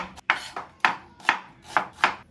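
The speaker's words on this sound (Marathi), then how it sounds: "हे सगळे कांदे cut cut cut cut cut cut कचकच कांदा कापताना" Onions are chopped with a kitchen knife in a home kitchen, giving five or six crisp, close thuds on the board at an even, unhurried rhythm.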